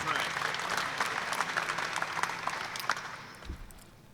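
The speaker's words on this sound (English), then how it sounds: "let's give him a round of applause as well" An audience at a local candidates forum applauds in a dense, even wash of clapping that gradually thins and fades toward the end, with a brief low thump near the close.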